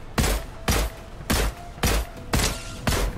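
Six heavy bursts of gunfire in Fortnite, evenly spaced about half a second apart, each loud and booming with a short ringing tail.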